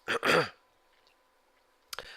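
A short throaty cough or throat-clearing up close, then a quiet pause and a brief breathy noise at the end.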